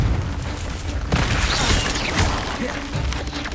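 A Confringo fire spell bursts in Hogwarts Legacy, a loud, sustained, roaring blast with a dense rumbling crash that holds steady for several seconds amid ongoing combat noise.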